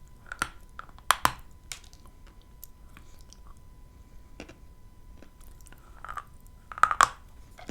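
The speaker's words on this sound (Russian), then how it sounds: "От толстого куска уже откусить сложно." Someone bites into thick, smooth, heavy slices of a Kyrgyz fruit variety and chews, giving sharp crunchy bites followed by wet squishy mastication, close-miked in a quiet room, with several separate bites spread across the stretch.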